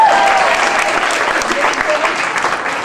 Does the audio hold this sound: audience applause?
yes